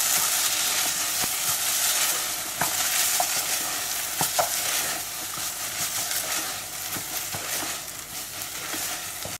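Prawn filling with coriander leaves stirred in a hot pan, steady sizzling with repeated scraping strokes of the spoon, close and loud throughout.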